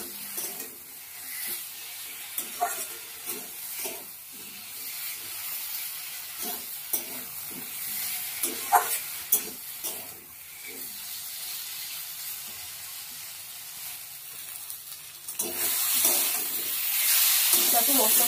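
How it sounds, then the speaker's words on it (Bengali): Spice paste is stirred with potato and eggplant in a pan, with scattered scraping strokes and a low sizzle over about eighteen seconds, close and moderate, ending with a brighter hiss of water or frying. "কষিয়ে নিতে হবে মশলাটাকে দিয়ে সবজির সঙ্গে।"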